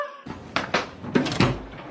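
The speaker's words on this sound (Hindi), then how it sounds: "इतना टाइम लगता है तुम्हें दरवाजा ओपन करने में?" A door is opened indoors with a series of close, sharp thumps and knocks in an uneven rhythm, loud against a quiet room.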